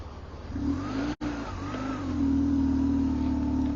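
A motorcycle engine revs hard and steadily as the rider pulls away from a stop, the drone holding close and loud for a few seconds after one brief cut.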